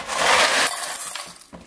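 Dry cat food poured into a cat's food bowl, a dense rattling, clattering rush of kibble for about two-thirds of a second, then scattered smaller pellet ticks and settling clicks, close and loud with no talking.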